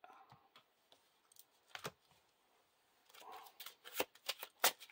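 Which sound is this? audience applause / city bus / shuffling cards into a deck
shuffling cards into a deck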